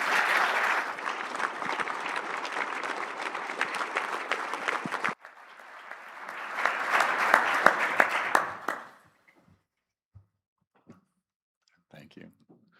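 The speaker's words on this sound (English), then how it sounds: "Let's give them a round of applause." An audience at the BEMA Convention 2026 applauds panelists: a dense burst of clapping that eases, swells into a second round, then stops abruptly, leaving scattered faint clicks in near silence.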